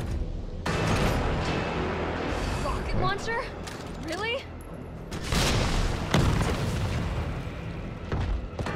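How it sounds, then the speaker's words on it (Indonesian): Grenade blasts in Resident Evil 3 Remake during a fight with a bazooka-type Nemesis, heavy booming bursts with rumbling tails amid game effects, loud and close, with someone talking over them. "Gua akan pakai granat aja biar cepet ya."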